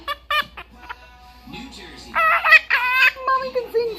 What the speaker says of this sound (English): Who would have ever thought a macaw could sing?